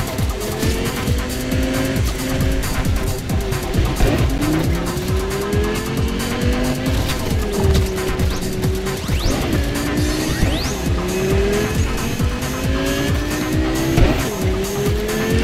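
A race car's tires squeal repeatedly during a big race in Cyberpunk 2077, the loud engine whining up and down between sharp skids, with a few crashing impacts along the way.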